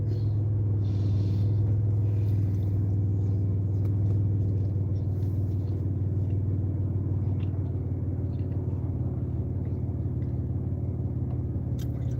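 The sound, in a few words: car engine rumble in heavy traffic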